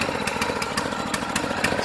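Small gasoline engine of a Power Tow tug for a Cirrus SR22 running steadily, a close, rapid buzzing putter with regular pulses.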